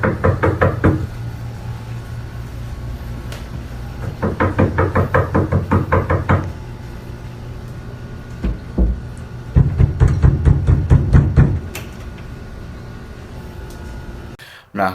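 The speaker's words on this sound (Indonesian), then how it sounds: "ada suara ketukan pintu" Knocking on a door comes in three separate bursts of rapid, loud raps, each a quick run of evenly spaced knocks with quiet gaps between.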